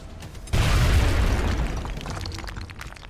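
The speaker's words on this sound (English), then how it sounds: "Throwing grenade." A grenade explodes in XCOM Enemy Within with a sudden loud, deep boom that rolls on as a sustained rumble with crackling debris, slowly fading over a few seconds.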